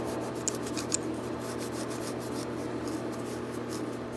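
A cloth rubs across an S14 SR20 engine water neck as gasket surfaces are wiped clean, giving a steady, soft close-up scrubbing hiss with no talk and a couple of faint tiny clicks.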